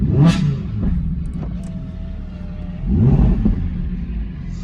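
An Audi R8 engine revs up sharply twice in sport mode, the exhaust rumbling loud and close, settling to a steady idle between the bursts.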